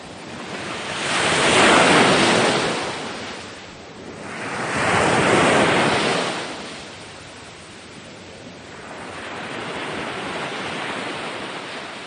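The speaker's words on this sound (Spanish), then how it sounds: "enseñar a sus niños cómo suenan las olas del mar" Ocean waves rolling in and breaking on the coast, three broad surges of surf rising and falling over about twelve seconds, loud and close with wind-like hiss between crests and no voices.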